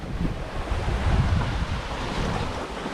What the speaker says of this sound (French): Nous avons un vent de 15 nœuds, grosso modo 13-15 nœuds.